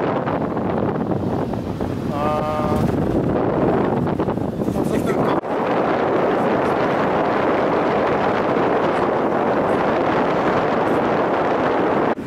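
Strong wind on Svalbard buffets the microphone in a constant roaring rush, with a brief tonal cry near the start and a short cut midway.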